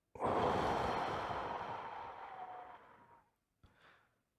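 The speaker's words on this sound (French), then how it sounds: "On va faire une respiration." A long, loud breath during a guided breathing exercise, a strong rush of air lasting about three seconds that fades gradually, followed by a brief softer breath after a short pause.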